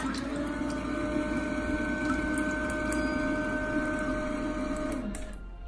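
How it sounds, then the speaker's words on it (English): Steady electric whirring hum with a constant airy blow from a SmartBidet SB-1000 electric bidet seat dryer, running evenly and close by without pause, then easing slightly near the end. "I use a dryer a lot too"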